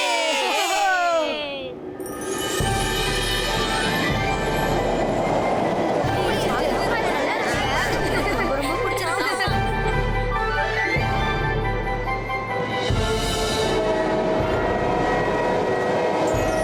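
A cartoon flying train from the animated Rudra series rumbles along with a low, pulsing chug under swooping effects and background music, while voices speak over it.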